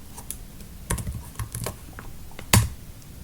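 Keystrokes on a computer keyboard entering debugger commands, a quick irregular run of soft clicks with a few louder taps, close by and alone.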